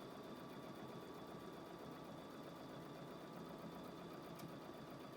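Quilting sewing machine fitted with an even feed foot stitching around a 5-inch square, a continuous even mechanical hum and rapid needle chatter, steady and close, with no pauses.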